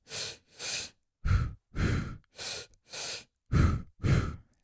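A person demonstrates a double-breath running technique, with eight sharp, breathy exhalations grouped in pairs at an even rhythm, close and clear with silence between them.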